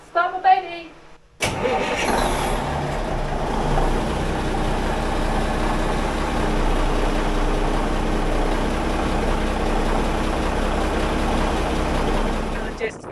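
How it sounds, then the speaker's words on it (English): After a brief moment of speech, a boat engine cranks and catches, then settles into a loud, steady rumbling idle that runs on without a break. "Just fire the engine up."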